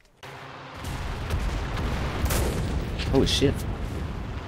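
Battlefield rumble of explosions and gunfire in the WWII shooter Enlisted, with broad booms swelling midway and sharp shots near the end, all under a man's excited exclamation.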